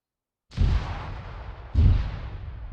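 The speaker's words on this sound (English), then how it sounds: "See, this town is just getting shelled by artillery." Two heavy artillery shell impacts land on a town in Arma 3, each a loud booming blast with a long rumbling decay, the second arriving about a second after the first.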